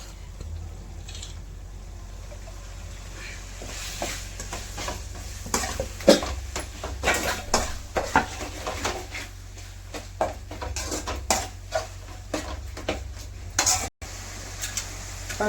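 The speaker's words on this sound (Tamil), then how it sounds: "இந்த டைமில் ஒரு நாலு வெங்காயம் நாலு தக்காளி சேர்த்துக்கலாம் வெங்காயம் வதங்கணும்" Onions and tomatoes sautéing in a pan, a low steady frying hiss under a low hum, with irregular clinks and scrapes of a spoon against the pan as it is stirred.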